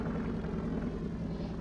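A small seaplane on the water gives a low, steady engine drone with a humming, buzzing tone, close and continuous over a brief stretch without talk.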